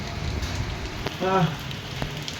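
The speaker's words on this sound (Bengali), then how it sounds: "মানে এতদিন গেল বৃষ্টি হলো না, পুজোর সময় বৃষ্টিটা আসতে হবে।" Rain pours during the Jagaddhatri Puja festival in Krishnanagar, Nadia, a steady close hiss of drops on surfaces heard from under a shelter, with a brief voice partway through.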